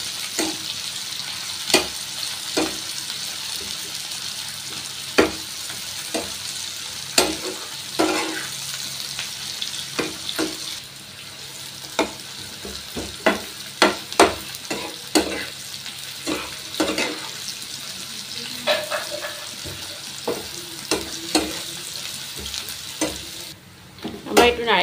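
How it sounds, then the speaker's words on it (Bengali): Chopped onions fry in a pan for fish curry while a utensil stirs them often, giving a steady close sizzle broken by sharp scraping clinks, with no talking. "এবার দেখো পেঁয়াজটা একটু মজে গেছে, মানে একটু ভাজা ভাজা হয়ে গেছে।"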